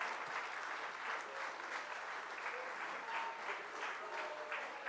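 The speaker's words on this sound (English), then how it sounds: "Give them a round of applause." Steady, dense applause from an awards-night crowd thanking coaches and an executive, fairly distant and even in level throughout, with no voices breaking through.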